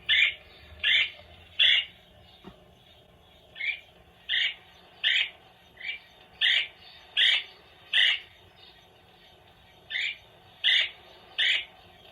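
A red-bellied woodpecker's call plays from a 1977 Audible Audubon card record player: a series of about fifteen short, evenly spaced chirring notes, fairly clear over faint mechanical hiss.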